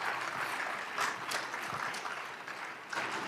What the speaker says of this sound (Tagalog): Ayun ang pumalakpak ang mga tao rito.